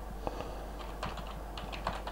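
Quick, light clicking of keys on a computer keyboard, typed in short irregular bursts at a soft, close level with no voices.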